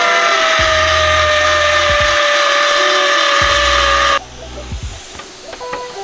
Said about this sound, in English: we're actually gonna grind the surface of the spot weld